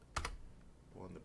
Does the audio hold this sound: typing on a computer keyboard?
yes